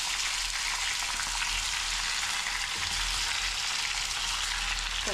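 Taro (colocasia) pieces and curry leaves fry steadily in hot oil in a pan, a dense, even sizzle holding at the same level throughout with no talking.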